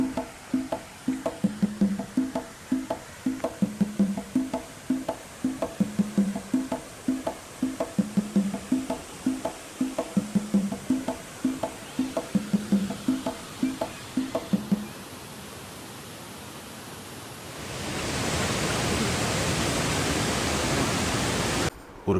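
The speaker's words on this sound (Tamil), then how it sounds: "அருவி நம்ம கண்ணுக்கு எட்டுறதுக்கு முன்னாடியே அதை சத்தம் நம்ம காது கட்டிடுது." Monkey Falls at Valparai roars as loud, steady broadband rushing water near the end, after a long stretch of rhythmic, music-like pulses.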